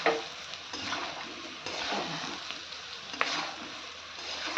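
Turmeric and ginger paste sizzling in hot oil in a pan, a steady quiet crackle broken by scraping stirs and a few soft clinks of the spoon.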